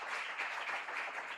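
A church congregation claps together in praise during a service, steady dense applause at a moderate distance, continuing without spoken words.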